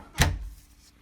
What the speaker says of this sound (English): With the strike plate finally installed, we're ready to close our door